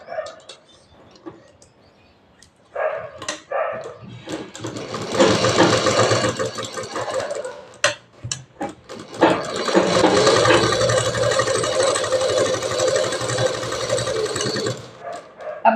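A sewing machine stitching a 36-inch double-cup blouse, running in two long, loud, rapid bursts after a few brief starts and clicks, with faint background sounds in the quieter gaps.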